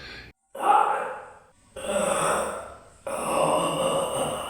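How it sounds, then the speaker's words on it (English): Three heavy, breathy gasps come from a jail cell, following one another with short pauses between them, close and strained, like someone struggling for air. "It sounded like someone gasping for air, as if they were struggling to breathe."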